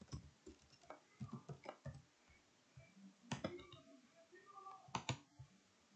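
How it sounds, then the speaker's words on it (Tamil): Computer keyboard typing during an OpenOffice Impress tutorial, with scattered key clicks and short bursts of taps at moderate distance, faint voices and room noise between them. "ஸோ கரெக்டுன்னு டபுள் கிளிக் பண்ணிவிட்டு நான் டைப் பண்ணிக்க போகிறேன்."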